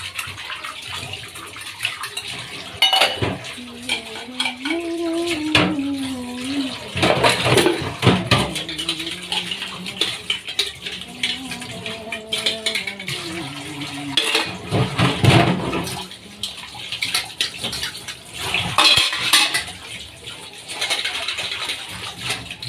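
Dishes are washed by hand at a running tap, with water pouring steadily while pots and steel utensils clatter and cutlery clinks in repeated bursts, close and fairly loud, with no talk.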